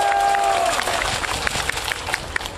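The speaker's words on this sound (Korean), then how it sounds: "이분을 위해서 우리 박수 한번 보내줍시다" Outdoor crowd at a street rally near Seoul Station applauding for a politician, a dense wash of clapping with scattered cheers, steady then thinning toward the end.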